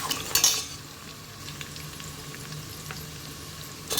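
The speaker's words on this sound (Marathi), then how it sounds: "कांदा घालून तो व्यवस्थितरित्या तेलामध्ये" Onion frying in oil in a pan for matar pulao, a soft, steady sizzle close by, framed by brief clatters of a utensil at the start and end.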